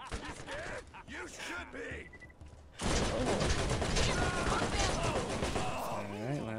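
Rapid gunfire from a battle rifle in the Borderlands video game, a dense sustained burst that starts abruptly midway and runs to the end, with people talking over it during couch co-op play.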